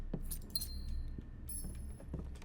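Metallic keys jangling as they are picked up in the puzzle game Blue Prince, with several light jingling clinks scattered across a few seconds, quiet and close, with no talking.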